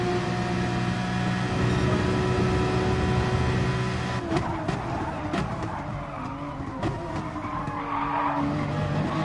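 A Porsche Gr3 race car on the Interlagos circuit in Gran Turismo Sport runs at high engine pitch, then brakes hard as the tires skid and squeal loudly while the engine note drops.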